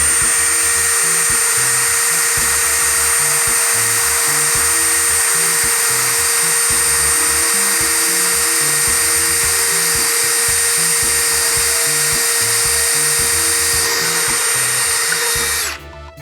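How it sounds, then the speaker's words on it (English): A power drill spins a drill bit into material at steady high speed, a loud continuous whine with a constant tone held for about fifteen seconds before cutting off abruptly at the end. "Let's try with a drill, see if the result changes, being that we're not getting that impacting."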